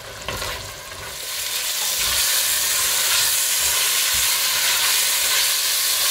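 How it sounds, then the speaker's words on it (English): Chicken and potato curry bubbles and sizzles in an uncovered pan, a dense continuous hiss that swells after the first second and then holds loud and even, with faint scraping early on and no speech. "cook it for a further 10 minutes without the lid,"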